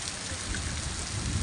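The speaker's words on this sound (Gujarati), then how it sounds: "જોઈ લે આ વરસાદ પડે કાંઈ દેખાતું નથી." Heavy monsoon rain pours down steadily near Gundasari village dam in Jamkandorna taluka, a dense continuous hiss with a low rumble, close and loud throughout with no talking.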